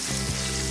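Chicken frying in a KFC restaurant fryer gives a steady, dense sizzle of hot oil, close and continuous throughout.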